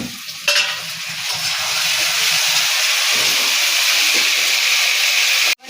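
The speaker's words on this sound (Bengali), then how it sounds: "এবারে দিয়ে দেবো কুচানো টমেটো" Chopped tomatoes land in a hot pan with a sudden loud burst of sizzle, then a steady close hiss of frying that cuts off abruptly at the end.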